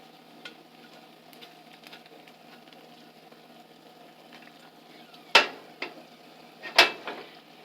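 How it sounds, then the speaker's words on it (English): Chicken fat crisping in a pan for chicken inasal basting sauce, a low steady sizzle with a few sharp clacks of a utensil against the pan near the end. "My chicken fat getting pretty crispy here."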